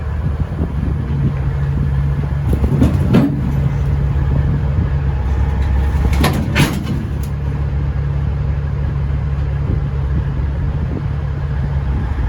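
A semi truck pulls a trailer slowly into a parking spot with a steady low engine drone and idle rumble, plus a few brief sharp clanks or air-brake hisses over it.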